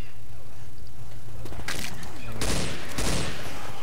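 Explosive ammunition fires in Left 4 Dead 2, loud rapid bursts of gunfire cracking over a low rumbling game background, with shots clustered in the second half of the clip.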